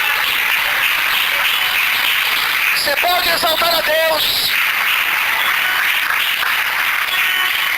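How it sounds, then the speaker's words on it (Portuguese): Church congregation in Brazil applauding during a Portuguese-language anniversary service, sustained broadband clapping throughout while a preacher speaks briefly over it in the middle. "Será que você pode aplaudir o Senhor?"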